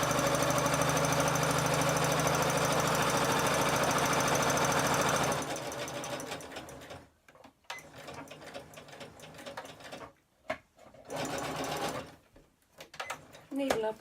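A Butterick EB 6100 sewing machine stitches a bag in a loud, steady motor whir for about five seconds, then stops; after that come quieter handling sounds and a few short bursts.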